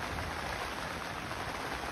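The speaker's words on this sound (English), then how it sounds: "And it rains hard." Heavy rain falls steadily at an Ohio overland campsite, a dense, even hiss of drops drumming on surfaces that continues unbroken with no voices.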